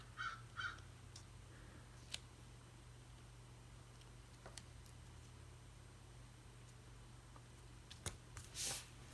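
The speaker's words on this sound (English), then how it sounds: "I gotta have crows outside. And they're being really loud." Crows caw outdoors, faint and distant. A quick pair of caws comes at the start and another burst near the end, over a low, quiet indoor hum.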